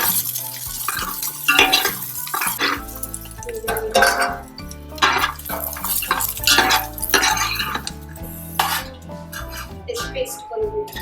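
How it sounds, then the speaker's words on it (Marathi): Ginger and garlic frying in a pan for a smoked prawn biryani, heard as repeated scraping and stirring strokes with metal utensil clinks and a light sizzle, loud and close. "त्याच्यातच मी आलं आणि लसूण सुद्धा फ्राय करतो."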